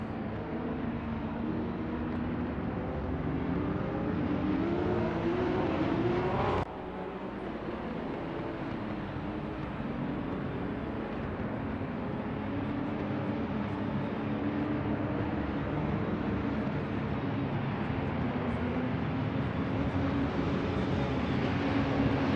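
Porsche Cup race cars, 2017 series, sit on the starting grid near Druids corner, engines droning and revving steadily while drivers hold the brakes. The sound is a continuous loud engine roar with a brief dip early on.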